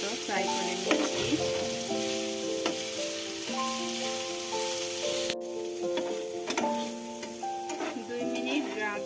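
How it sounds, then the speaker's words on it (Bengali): Potato, carrot and onion fry together in a pan with a steady sizzle that runs throughout, broken by the occasional clink of stirring. Tonal music plays prominently over it, and there is no talk. "এখন এই আলু, গাজর আর পেঁয়াজটাকে আমি 2 মিনিটের মতো ফ্রাই করে নিয়েছি।"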